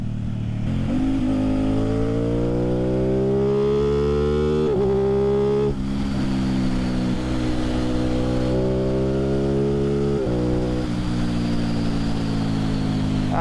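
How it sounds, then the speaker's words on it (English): An Aprilia Tuono 660 motorcycle exhaust heard while riding, loud and close, with the engine note climbing through the gears in rising sweeps and dropping at each shift. "I'm gonna enjoy the soundtrack from this exhaust"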